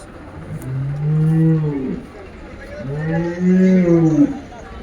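Buffalo at a livestock market in Dhanaula give two long, deep moos in a row, close and loud, with faint market chatter in the background.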